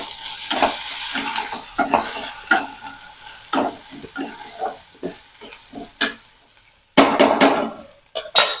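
Peanuts frying in a pan with onion and chilli, crisping on a traditional stove for a Maharashtrian brinjal bharit, heard as bursts of sizzle and sharp metal scraping and stirring strokes at an irregular rhythm, close up with no talking.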